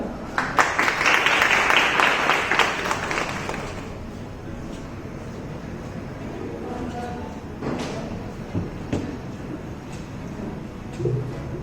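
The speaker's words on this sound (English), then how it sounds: "Give a big round of applause for her." A round of applause at an Independence Day school function, loud group clapping for about four seconds that then fades into quieter room noise with a few scattered knocks and shuffles.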